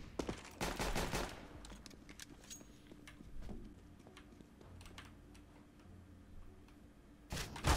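Bursts of rapid gunfire in a shooter video game, a dense volley at the start and another at the end with scattered clicks and ticks between, fairly quiet overall.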